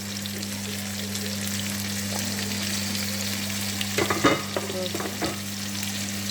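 Beef liver sautéing with onions and black pepper in a pan, a steady sizzle with a few scraping stirs of a utensil near the end, over a constant low electrical hum.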